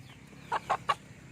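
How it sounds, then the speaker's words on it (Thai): A decoy bantam rooster gives three short, distinct clucks in quick succession, close by, over a quiet background hum. "ตัวนี้เป็นไก่ต่อนะครับ"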